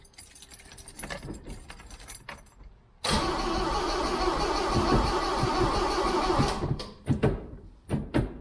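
A 1975 Toyota Carina 1.6 TA12 engine starts up. Keys jangle and there are clicks and the crank, then the engine catches and runs loud and close for several seconds before it cuts out, followed by a few thumps.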